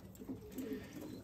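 Domestic tumbler pigeons coo softly nearby in a few low, rolling phrases against a quiet background.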